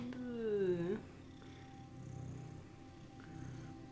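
A kitten close by gives one short, falling meow, then purrs softly and low for a few seconds.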